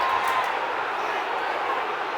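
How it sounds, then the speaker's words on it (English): A football crowd at Millwall against Luton Town howls for the referee, a dense distant roar of many voices that holds steady and slightly eases over the moment. "Crowd howling for the referee, but he's not going to give anything."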